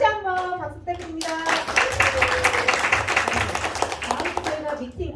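Hands clapping in applause at a small training meeting, rising after a sung or sustained voice at the start and continuing as a brisk, close patter of claps while voices carry on underneath, fading out at the end.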